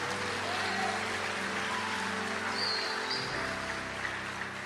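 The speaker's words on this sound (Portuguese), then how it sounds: "Aplauda o nome do Senhor Jesus" Applause from a church congregation during a sermon, a soft steady wash of clapping over sustained musical tones, fairly distant and moderately quiet.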